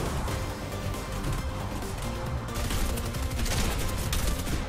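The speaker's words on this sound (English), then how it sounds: "He's only shooting me." Dense, continuous gunfire in a Fortnite solo match, loud and close, with overlapping rapid shots filling the whole stretch without a break.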